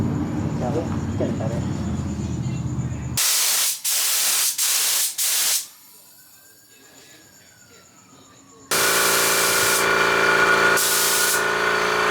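Bursts of spray paint hiss as a first coat of primer goes onto a car bodykit in a garage, several short loud blasts, a quieter gap, then a long continuous spray close by.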